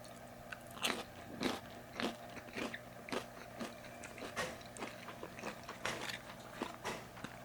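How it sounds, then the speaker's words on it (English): McDonald's fries being bitten and chewed up close, a steady series of sharp, crisp crunches repeating every half second or so with no talking. "You're not gonna get that level of crunch"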